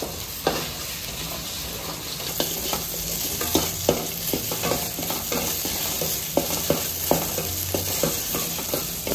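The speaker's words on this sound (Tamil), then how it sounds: "எந்த குழம்பு வச்சாலும் வெண்டைக்காவை வதக்கி எடுத்துக்கோங்க" Okra sizzles steadily as it fries in a pan for a buttermilk curry, while a spoon scrapes and taps through it in irregular, fairly loud strokes close by.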